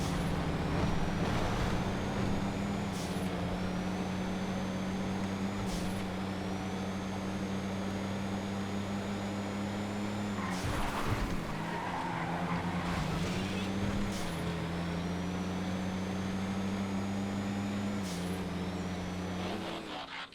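Elegy Retro Custom sports car engine in GTA, a steady droning hum held at constant revs, with brief whining shifts and a couple of louder bumps, continuous and fairly near.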